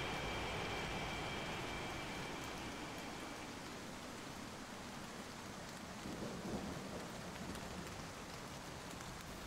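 Steady heavy rain pours over an airfield in the flight game Strike Fighters 2, with low rolling thunder rumbling beneath the constant hiss.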